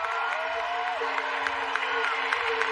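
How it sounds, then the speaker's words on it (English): Stadium crowd at a world athletics championship applauding and cheering defending world champion Dalilah Muhammad, a continuous distant roar of clapping and whoops filling the space. "The crowd appreciating the defending world champion at this event."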